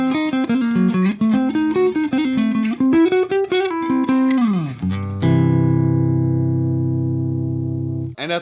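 Electric guitar runs a fast lick on the Hungarian major scale, shifting it up in minor thirds through a series of quick note runs, then landing on a long sustained ringing chord that fades.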